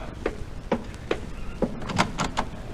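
A back door opening as a radio comedy sound effect, heard as a series of sharp knocks and clicks spaced through the clip, moderately close with no talk over them.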